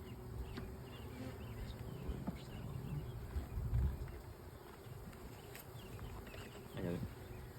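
A low, continuous buzz of many bees on hive frames close by, faint and steady on a cold day, with brief quiet voices now and then.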